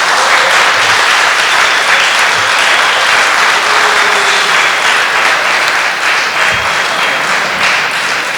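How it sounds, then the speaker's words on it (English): A large crowd at the closing session of a parliamentarians' convention on Tibet in Riga gives loud, sustained applause for the organizer, a continuous wash of clapping with faint voices underneath. "I wish you give a big hand of applause for Yanis for this"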